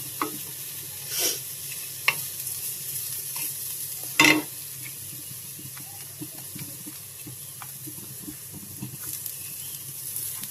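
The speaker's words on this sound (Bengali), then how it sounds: "আমি জর্দার সময় রান্না করতেছি নারকেল দিয়ে।" Zarda sweet rice with coconut cooking in a pot, a low steady sizzle broken by scattered scrapes and clinks of stirring, with a couple of louder knocks against the pot.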